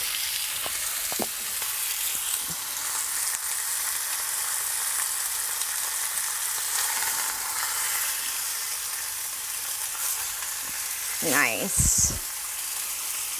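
Salmon fillets sear in a hot skillet, a constant broadband sizzle of oil and fish throughout as the fillets are flipped, with a brief spoken word near the end.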